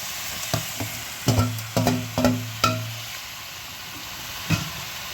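Calabash with tomato cooking in a pan, giving a soft sizzle broken by several clattering stir strokes and spoon knocks, mostly close and moderately loud, with a final isolated knock after a pause.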